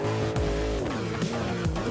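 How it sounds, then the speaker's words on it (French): Car tires spinning and slipping in BeamNG.drive, a close, loud engine roar with rising and falling revs and squealing wheelspin throughout. "Il patine beaucoup quand même, hein."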